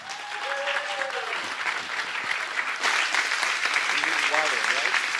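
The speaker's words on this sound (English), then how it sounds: "So let us give a big applause to Dr." Audience applause fills the room for a pastor and his wife at a church gathering, a dense steady clapping that grows louder midway, with voices talking over it.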